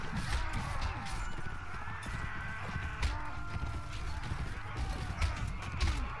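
A horse ridden through a crowd of fighters in Mount and Blade: Warband gives a continuous patter of hoofbeats amid the steady din of battle.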